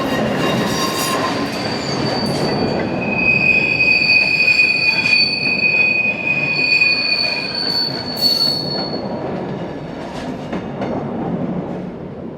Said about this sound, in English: Departing with a local service for Spiez is unit number 230.